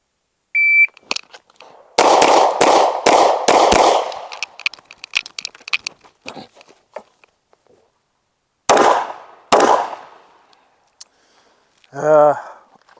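Gunshots ring out on a timed run at a shooting range, with a timer beep first, then a rapid string of sharp loud cracks, scattered echoes, two more shots later and a closing beep.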